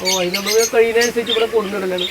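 Caged birds, including parrots and doves, chirp and tweet at a wholesale pet bird market in Kerala, with short bright calls scattered over people talking nearby.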